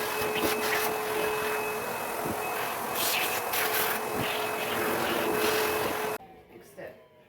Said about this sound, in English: best thing to do, vacuum it all.